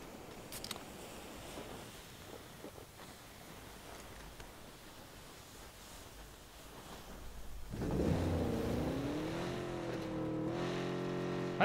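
Car driving in PUBG, a faint noisy rumble that swells into a louder engine drone with rising and falling revs near the end.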